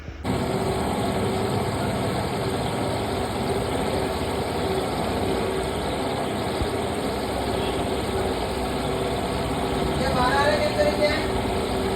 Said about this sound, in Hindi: स्टार्ट कर दिया, ये मोटर स्टार्ट हो गई